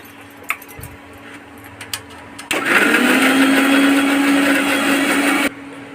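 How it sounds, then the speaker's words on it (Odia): Kitchen mixer grinder grinding ginger and garlic into paste: a few faint clicks, then the motor whirs on abruptly, loud and steady for about three seconds before cutting off. "ବର୍ତ୍ତମାନ ଆମର ଗ୍ରାଇଣ୍ଡରରେ ବର୍ତ୍ତମାନ ଅଦା ରସୁଣ ପେଷ୍ଟ ହେବ।"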